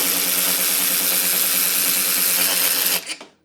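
A Ryobi 3/8 in cordless ratchet runs at full throttle, giving a loud, steady motor whir for about three seconds before spinning down quickly to silence.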